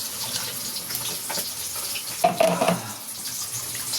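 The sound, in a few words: rinsing rice under running tap water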